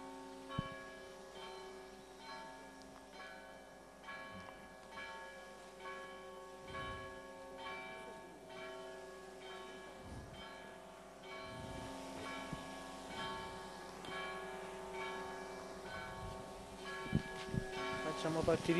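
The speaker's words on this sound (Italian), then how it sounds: "Suoniamo le campane" Church bells peal repeatedly at a steady rhythm during an Italian Corpus Domini (Santissimo Sacramento) festival in Montecastello, ringing fairly close over faint background crowd noise and occasional voices.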